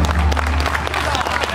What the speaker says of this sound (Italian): Un applauso di incoraggiamento questo,